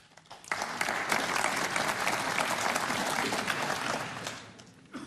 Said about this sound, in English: Well, he gets a clap